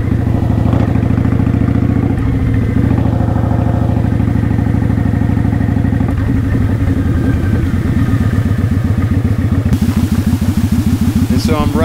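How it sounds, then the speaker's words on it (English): A Kawasaki Vulcan 900 Classic motorcycle rides along with a loud, steady engine drone and rumble that shifts in pitch, a rider talking over it throughout. "Kawasaki Vulcan 900 Classic."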